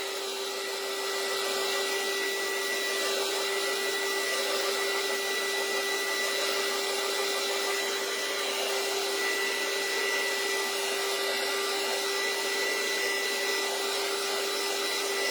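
Hair dryer blowing steadily to dry craft work, a loud continuous whir with a sharp tonal whine that holds unbroken from start to finish, heard alone without talk.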